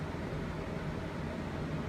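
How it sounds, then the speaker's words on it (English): A room fan running steadily, giving a low, even broadband whoosh that stays constant throughout with no voices over it. "And the fan's on, so excuse the background noise."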